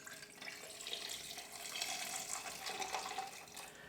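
Orange juice freehand-poured into a Tequila Sunrise cocktail, a soft, steady liquid stream running for several seconds, close and quiet with no voices.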